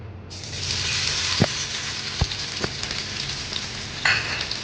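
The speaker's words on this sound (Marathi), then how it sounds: "तेल गरम झालं की त्यामध्ये या लसणाच्या पाकळ्या मी चेचून घेतलेल्या आहेत." Crushed garlic cloves drop into hot oil and burst into a loud, steady sizzle that continues with occasional pops and crackles, close up and with no voices.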